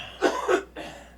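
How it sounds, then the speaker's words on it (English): Two close, sharp coughs from one person right at a microphone, followed by a softer third cough, loud and dry with no talking. "Why you coughing in the microphone?"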